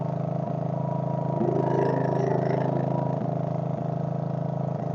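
A Case 224 garden tractor engine idles steadily at a constant speed while running a wood splitter, a close mid-pitched drone with faint periodic clanks, no talking.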